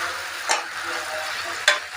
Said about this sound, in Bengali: মাংসগুলো দিয়ে ভালো করে মশলা মাখিয়ে